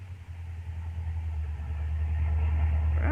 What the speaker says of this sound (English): Have to pull the car a bit off the road